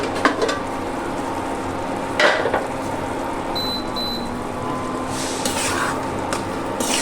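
Vegetables sauté with small tangra fish in a pan, giving a steady soft sizzle with occasional stirring clatters. Two short electronic beeps sound partway through.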